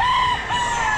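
A near rooster at the Grotto pet market lets out a bright, sustained crow that dips briefly midway, backed by more crowing from other caged fowl.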